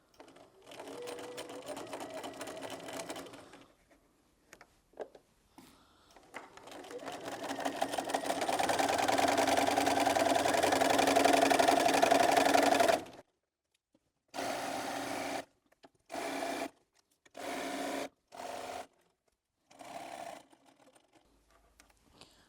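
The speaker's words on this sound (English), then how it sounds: "I'm just going to machine it all the way around" A sewing machine stitches a double hem on an apron, humming in a few short runs and then one long steady stretch, followed by several brief bursts with pauses between them.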